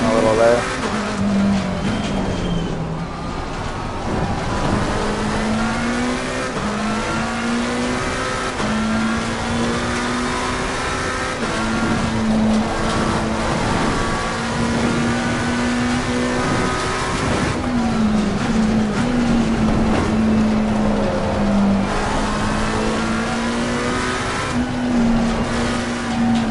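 Race car engines in the Assetto Corsa video game drone and rev in repeated rising and falling sweeps with a brief tire slide, and a voice talks over them throughout.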